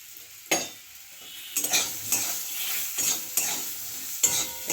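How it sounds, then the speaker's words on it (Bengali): Turmeric being stirred and fried into salted lentil dal in a pan, a steady soft sizzle broken by several scraping strokes of a spoon against the pot, close and fairly quiet, with no talking. "একটু ভালো করে নাড়িয়ে নেব হলুদটা তো ভেজে নিতে হবে"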